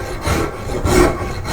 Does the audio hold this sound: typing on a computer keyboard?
no